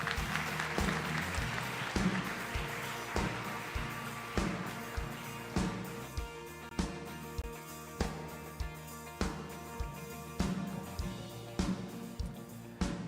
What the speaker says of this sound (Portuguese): com a salva de palmas